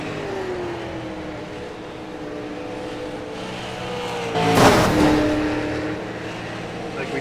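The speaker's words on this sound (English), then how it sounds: "we just heard a car hit the wall there" Stock race car at a Grand National Series 250 oval race slams into the wall, a brief broadband crash burst about two-thirds through, cutting across the continuous droning whine of engines circling the track.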